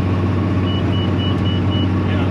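A truck engine held at a steady idle while rolling along, its deep continuous low rumble loud and close throughout, with no voices.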